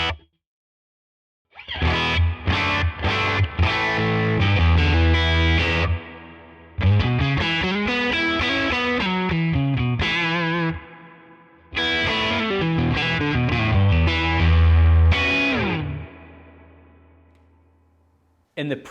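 An electric guitar plays through a Tone King Imperial, a two-channel boutique combo modelled on old Fender Tweed amps, with spring reverb and effects, loud distorted phrases in three bursts separated by brief pauses, ringing out at the end.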